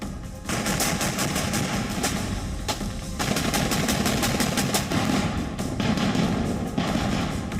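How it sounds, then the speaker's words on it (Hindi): A Russian tank fires during fighting in Mariupol, heard as loud, close, continuous bursts of rapid fire with heavy thuds and no voices. "मरियुपोल में भी एक रूसी टैंक तेजी से आगे बढ़ गया है और दनादन बारूद के गोले"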